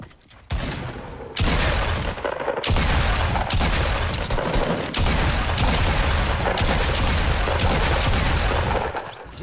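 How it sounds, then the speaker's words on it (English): Dense, loud bursts of gunfire and booms in Fortnite, a double pump shotgun fight, with near-continuous blasts and short gaps between volleys and no talk over them. "we just destroyed him with the double pump"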